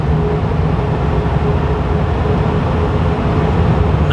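Mercedes G-Class widebody accelerating at full throttle on the autobahn, a steady loud broadband roar of engine and road and wind noise with a faint tonal hum, continuous throughout with no talk.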